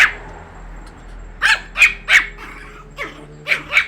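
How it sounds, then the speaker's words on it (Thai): A small Pomeranian dog barks in quick, high-pitched yaps, coming in two bursts of sharp barks after a brief opening yip, close by with no talking. "นะครับหมาพันเล็กนี่ชอบเห่านะครับหมาปอมนะครับ"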